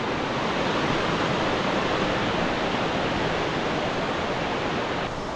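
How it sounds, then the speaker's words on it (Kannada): Hebbe waterfall in Chikkamagaluru pours down with great force, a loud, close, unbroken roar of crashing water that fills the whole stretch without any voices. "ಎಷ್ಟು ಜೋರಾಗಿ ನೀರು ಬೀಳ್ತಾ ಇರೋದು ಫಾಲ್ಸಲ್ಲಿ"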